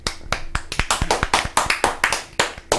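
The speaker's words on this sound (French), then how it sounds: "Grand applaudissement quand même de la chatroom." A small group claps hands at a quick, steady pace, the sharp dry claps close and distinct rather than blending into a crowd roar.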